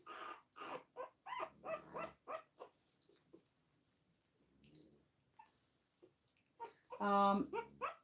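A blue and tan French bulldog mother whimpers and snorts in short bursts close by, with a louder whining cry near the end, as someone speaks softly between the sounds.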